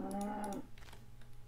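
A cow in the video game Minecraft gives one low, drawn-out moo at the start of the clip. Soft clicking and quiet game ambience follow it.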